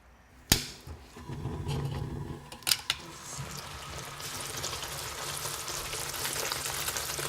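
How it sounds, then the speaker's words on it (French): Sugar cooking for Ardennes confectionery, a soft, even bubbling hiss that builds steadily after two sharp knocks near the start. "mon sucre chante, mon sucre me dit quand je peux le travailler"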